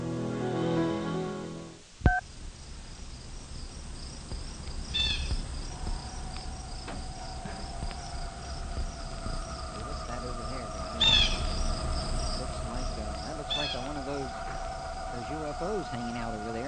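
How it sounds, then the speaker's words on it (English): Crickets chirp steadily in the background of a quiet outdoor night, with a sharp knock early on and faint distant calls scattered throughout. "A couple of crickets there."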